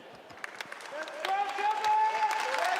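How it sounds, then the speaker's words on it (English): A stadium audience at a Fortnite Zero Build tournament applauds, the clapping swelling and holding steady over a couple of seconds while a host's amplified voice carries across it. "A huge round of applause from the top of the stadium."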